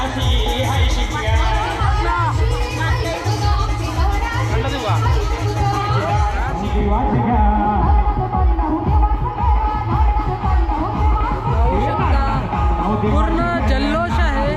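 A festive crowd celebrates Narali Purnima in Dhakti Dahanu, loud dense babble with cheering and a voice singing over steady rhythmic drumming throughout.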